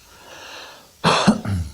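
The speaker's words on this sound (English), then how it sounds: "Had to clear my throat" A person clears their throat close up, two or three rough guttural bursts after a moment of quiet breathing.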